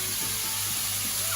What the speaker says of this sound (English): so just let that sizzle away there, that's beautiful